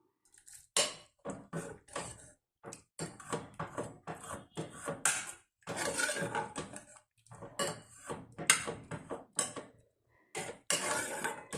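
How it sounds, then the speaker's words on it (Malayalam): Cooked tomato sambar being mashed in a pot, a dense run of close metallic scrapes, knocks and clatters from utensil against pot in short irregular bursts with brief pauses, no talking. "ഇതിന് നമുക്ക് എന്നാലും നന്നായിട്ടൊന്ന് ഉടച്ചു കൊടുക്കണം"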